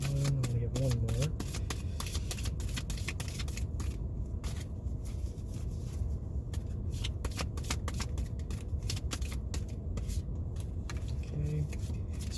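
Tarot cards shuffled and drawn from a deck, a steady, close riffling and flicking that runs throughout, with brief speech at the start and end.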